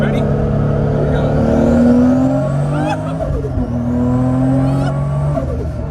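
A 1993 Toyota Supra accelerates hard at 17 PSI boost, its engine note climbing steadily through the gears with a shift around the midpoint, loud and close from inside the car, with occasional voices.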